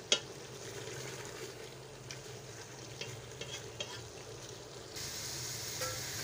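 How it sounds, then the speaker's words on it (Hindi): Spice masala with mutton tripe (ojri) sizzles quietly in a pan as it is stirred and fried, a soft steady hiss with occasional clinks, louder near the end. "वो हम इसमें डाल देंगे और इसको हम इसमें अच्छा सा भूनेंगे"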